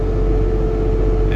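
A loaded semi truck's Cummins engine compression braking on a steep 6% downhill freeway grade, a loud, steady low droning rumble heard from inside the cab without pause.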